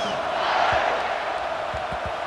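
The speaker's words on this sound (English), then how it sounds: "you think this crowd's going to get loud when their defense comes on the field?" A dense, steady roar of a large stadium crowd in a college football video game, cheering in a continuous wash with no distinct voices standing out.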